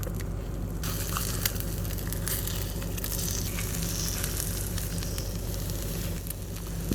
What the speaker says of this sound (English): this is the step where you try to flip the eggs with a spoon because you don't have a spatula